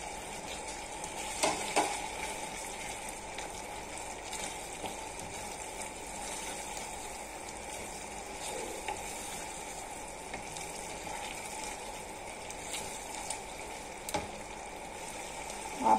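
Spinach fries in a pan for palak paneer, a steady broadband sizzle running throughout with a few soft clinks and stirring bumps, moderately loud and close, no talking.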